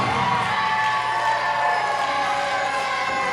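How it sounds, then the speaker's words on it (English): Wrestling arena crowd booing, a dense, sustained roar of many voices with a droning, tonal quality throughout. "That's not a cheer, that's a boo"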